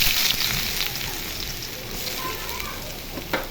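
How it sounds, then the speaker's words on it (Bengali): Onions frying in hot oil for a spicy country-chicken curry, a steady close broadband sizzle that holds throughout with a brief louder crackle near the end. "তেল গরম হয়ে গেছে, এখন পেঁয়াজের বেরেস্তা করে নিব"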